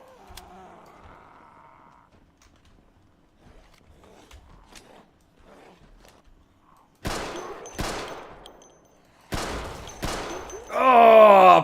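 Pistol gunfire in the zombie survival game Project Zomboid, several sharp game gunshots in close succession, loud and near, following quieter faint in-game sounds.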